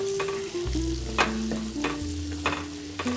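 An amla (gooseberry) pickle mixture sizzles in hot oil with a continuous, close frying hiss and occasional stirring scrapes over a faint steady hum, with no voices.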